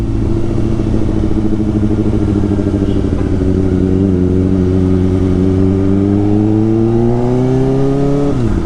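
A Kawasaki Ninja ZX-4RR motorcycle engine idles loudly and close, then revs up steadily, its pitch climbing before dropping off at the end.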